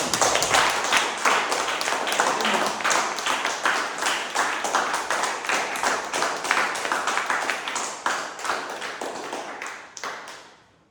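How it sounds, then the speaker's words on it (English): An audience at a Toastmasters club meeting claps in a rhythmic, evenly paced beat of sharp hand claps that holds steady for about ten seconds before tapering off. "let's clap for each one of them"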